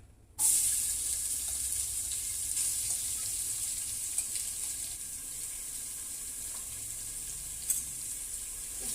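Onions drop into hot ghee in a home kitchen pan and sizzle steadily, a loud continuous frying hiss that starts abruptly and carries on with faint stirring clicks, no talking.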